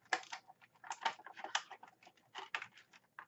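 Plastic packaging being cut and pulled apart to free a NECA Xenomorph action figure, a run of quick crackling, clicking snips and rustles close up, with no voices.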